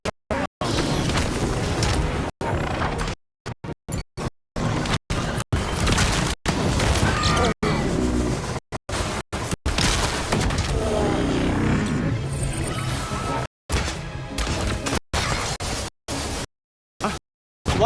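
Cluster bomb explosions going off in the Iron Man VR video game: loud, dense booms and crashing blasts burst one after another, cut by sudden short silences.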